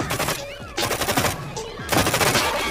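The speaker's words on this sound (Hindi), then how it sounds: "पुलिस ने इस पर गोलियां चलाई लेकिन उसका कोई फ़ायदा नहीं हुआ" Rapid bursts of gunfire in a film shootout during a rampage, loud and dense with overlapping shots, under a dramatic mix with faint voice.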